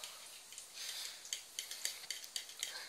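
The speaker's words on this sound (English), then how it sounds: "So we turn, we stir." Pasta carbonara being stirred in a pan, with a run of light metallic scrapes and clinks from a utensil against the pan, quiet and close, with no talking.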